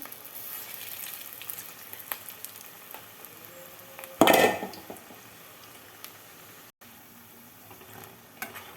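Idli-batter fritters (punugulu) deep-fry in hot oil with a steady, soft sizzle, broken midway by a loud burst of crackling and a clink of utensils against the pan.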